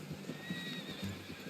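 A horse in the Red Dead Redemption 2 video game whinnies over a steady clip-clop of hooves, heard close and continuous with no talking.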